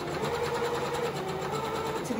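A sewing machine runs steadily, stitching a seam in a fabric surgical mask, a continuous close mechanical whir with no talk.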